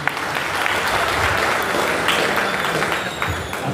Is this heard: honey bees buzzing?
no